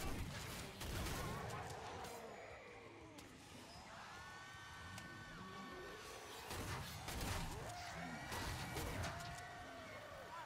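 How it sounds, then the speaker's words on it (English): An incoming missile blast lands amid chaotic Killing Floor 2 combat: dense, continuous gunfire, booms and crashing impacts, with game noise throughout. "Uh-oh, that's a missile coming at me."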